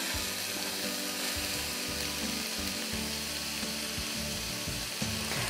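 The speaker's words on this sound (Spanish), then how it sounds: "Y así vamos a saltear por unos 3 minutos más o menos." Chopped onion sautés in a hot pan for a chicken pie, giving a steady, close sizzle with faint crackles and occasional utensil clatter, continuous and alone without talk.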